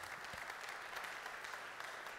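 A congregation at a men's church retreat gives a strong round of applause, a dense, even wash of clapping heard faint and distant, without pause.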